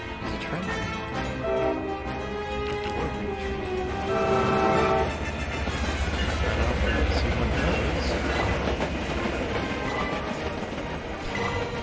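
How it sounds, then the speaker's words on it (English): A train passes in a VR game inside a mine, a long horn-like tonal blast over deep rumbling and rolling clatter, loud and close, with game dialogue briefly over it. "There's a train."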